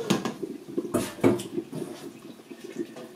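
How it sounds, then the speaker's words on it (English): Onions drop into a pot of chicken stew, a series of soft wet thumps and splatters with a brief clatter, close by and moderately loud. "I'm adding our onions."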